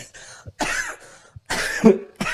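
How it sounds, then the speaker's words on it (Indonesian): Several harsh coughs in bursts, close and fairly loud, with short pauses between them. "itu batuk-batuknya batuk aneh itu"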